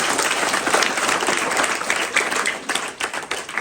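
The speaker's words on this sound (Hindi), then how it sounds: "एक बार जोरदार ताली बजाओ अपने लिए" Schoolchildren clap together in a dense burst of applause that stays loud at first, then thins into scattered, uneven claps toward the end.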